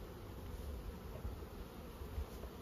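Honey bees, two or three hundred gathered in a tub, give off a faint, continuous droning hum with occasional soft bumps and rattles, and no talk.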